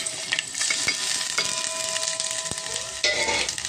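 Garlic, cumin, mustard seeds and dried chilli fry in hot oil for a tempering, giving a bright continuous sizzle with crackling pops and a few sharp clicks of stirring, close and alone.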